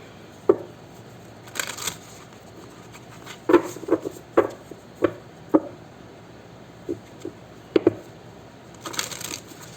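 Cards from a Moonology oracle deck are shuffled and drawn close by, with soft riffling swishes and a scattered series of crisp taps and flicks over a quiet background.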